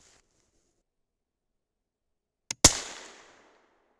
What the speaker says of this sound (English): Pretty distinct hang fire there.